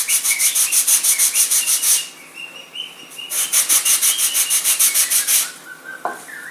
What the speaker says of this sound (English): you're going to sand in your bevel for your dihedral